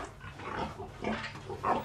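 Pigs on a farm being fed hemp press cake grunt and snort in quick, overlapping bursts close by, with no voices.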